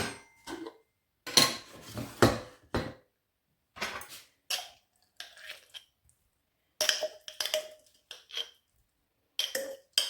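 Metal cutlery clatters as a fork is fetched in a home kitchen during budget batch cooking, with bursts of clinking and knocking spread in short clusters, fairly close and with no talking.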